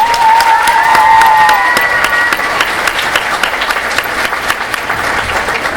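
Loud, close applause and cheering from a school crowd for fourth-grade students, with many hands clapping continuously and a few whoops or whistles rising over the clapping early on.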